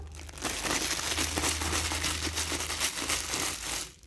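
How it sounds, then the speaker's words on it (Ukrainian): A plastic bag being scrunched and rustled up close, a loud, steady crinkling that continues for a few seconds and then cuts off. "Можна просто пошурхотіти пакетиком."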